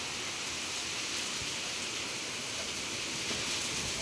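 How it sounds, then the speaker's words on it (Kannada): Heavy rain pours down in a steady, even hiss over a village home, loud and unbroken with no voices. "ಪೂರ ಮಳೆ ಅದ."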